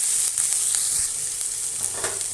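White chickpeas for sundal go into a hot pan, producing a close, steady frying hiss with faint stirring scrapes for a couple of seconds, no voices.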